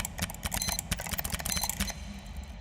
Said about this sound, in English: Another one is just mouse clicks and computer sounds.